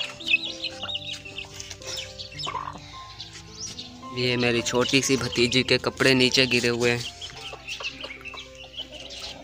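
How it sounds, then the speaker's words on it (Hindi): Chickens and a rooster cluck and call close by in a busy yard while someone talks over them. "ये आ गया जी मुर्गा मेरा खुद आ गया है घर"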